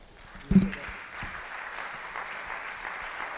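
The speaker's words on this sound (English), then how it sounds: "I think he deserves a better round of applause" Applause from a conference audience at an international meeting on African development issues, a brief burst of clapping that settles into a steady, moderate patter lasting a few seconds.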